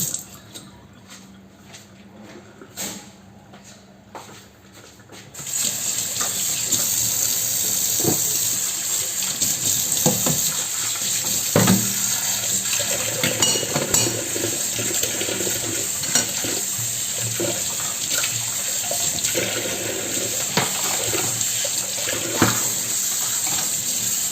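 A kitchen tap turns on and runs in a steady, loud gush into a sink while dishes are washed, with clinks and splashes scattered through the flow.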